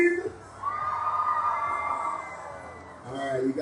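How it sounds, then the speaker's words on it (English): A large outdoor crowd at a Color Run warm-up event in Cleveland lets out a sustained loud scream and cheer for a couple of seconds, with scattered shouts and an amplified voice before and after. "Simon says put both hands up and scream."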